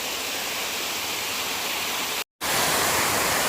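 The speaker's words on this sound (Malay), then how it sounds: "Berlapis-lapis air jeram begini." Multi-tiered waterfall and rapids at Jeram Enggang in Jelebu, pouring in a steady, loud broadband roar with a brief cut of silence midway, no voices.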